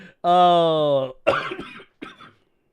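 A drawn-out vocal sound leads into a couple of harsh, noisy coughs, close to the mic, with a short pause between bursts.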